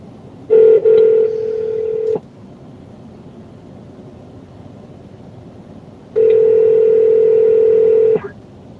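A phone placing a call: two long, steady electronic ring tones separated by a few seconds of quiet background, fairly loud and close.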